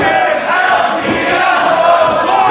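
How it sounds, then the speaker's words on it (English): A wrestling crowd roars and cheers steadily for both competitors, a dense wash of voices filling the arena. "The crowd getting out behind both competitors as well."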